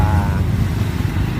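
An overhauled motorcycle engine idles smoothly and steadily up close, a constant loud low throb with even pulsing and no talking.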